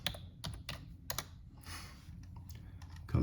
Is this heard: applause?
no